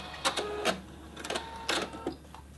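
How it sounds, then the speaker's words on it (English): A sewing machine stitches a quarter-inch seam while machine-piecing quilt fabric, giving short, clattering bursts of stitching separated by brief pauses, moderately quiet and close. "Pop it in under your machine, and we're just going to sew with that 1/4 inch seam allowance."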